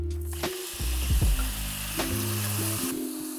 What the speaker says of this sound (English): You want the pan to be super hot, and then add your mushrooms in and let as much of that moisture cook out.